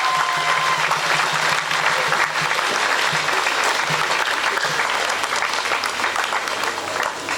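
A church congregation at a Mass gives a loud sustained round of applause for the Marist brothers, steady dense clapping filling the space, fading slightly toward the end.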